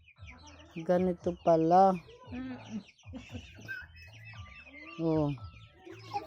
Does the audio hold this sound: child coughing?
no